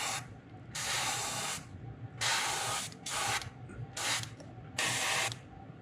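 An airbrush sprays brown shading paint onto a Wiggle Wart fishing lure, a soft close hiss in five or six short bursts over a steady low background.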